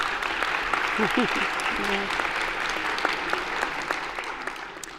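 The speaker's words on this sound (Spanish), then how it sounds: "Un aplauso." An audience at a congress event applauds a speaker with steady, even clapping throughout, a voice briefly heard over it near the start.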